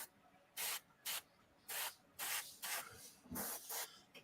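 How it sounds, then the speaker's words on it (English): An airbrush sprays paint in repeated short bursts of airy hiss, about seven or eight quick passes separated by brief pauses, fairly faint and close with no talking. "I love the fucking airbrush, bro."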